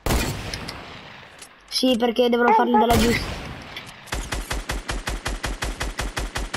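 Gunfire in an online shooter video game: a burst of rapid shots, then a steady run of evenly spaced loud cracks like automatic fire, with a player speaking briefly over it.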